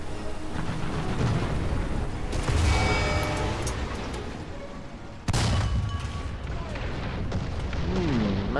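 Artillery fire in War Thunder strikes a T28 super heavy tank, a heavy boom with dense rumbling noise, then a second sharp impact midway, with voices and game sounds underneath.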